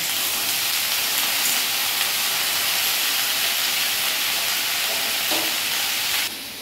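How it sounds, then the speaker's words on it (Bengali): Ginger, green chili and tomato paste fry in a pan, giving a steady broad sizzle and hiss that holds level throughout. A brief scrape of stirring comes near the end. "আদা, কাঁচা লঙ্কা, টমেটোর পেস্ট। এগুলোকে আমি লাল করে ভাজবো।"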